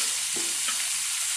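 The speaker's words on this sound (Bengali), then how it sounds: "পেঁয়াজ, রসুনটা একটু ভেজে দিচ্ছি" Onion and garlic fry in a pan with salt before dried jute leaves go in, a brief, dense, close sizzle with a soft stirring scrape, no voices.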